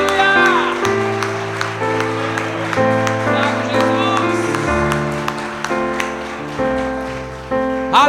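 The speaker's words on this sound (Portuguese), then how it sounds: "fica de pé e aplaude a Deus aí" A standing church congregation applauds God at a Pentecostal-style service, a continuous rain-like rush of many hands clapping over sustained keyboard chords.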